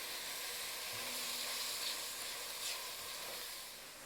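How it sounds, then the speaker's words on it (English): Chopped onions and celery sizzle steadily in a hot pan for minestrone soup, a soft continuous hiss with faint stirring scrapes, fairly quiet and without any talk. "So we're going to start with our onions first. Now we're going to add our celery. Let's give that a good mix through."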